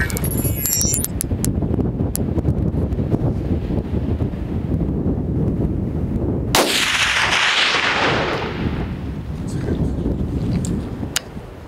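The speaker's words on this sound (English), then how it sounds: "It is pretty windy" Strong wind roars steadily across the microphone on Dugi Otok Island, Croatia, with gusty low rumbling throughout, swelling into a loud blast partway through before settling back.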